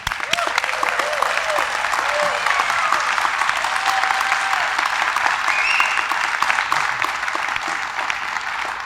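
Audience applause welcomes Coach Kirby Johnson at a court dedication, a steady, dense clapping from a crowd that holds at an even level for about nine seconds without fading.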